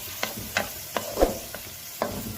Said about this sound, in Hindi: अच्छे 3 मिनट हम इसको भूनेंगे इस पर